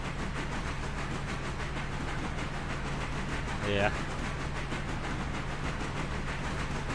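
Steady low chuffing rumble and hiss of a decent-sized stoker-fired steam locomotive in Railroader, heard from the cab as a continuous drone with a brief squeal near the middle and a voice speaking briefly.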